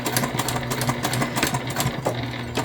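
Sewing machine stitching and back stitching across the top of a convertible bag, a rapid, steady mechanical whir with rhythmic needle clatter, close and continuous with brief changes in pace.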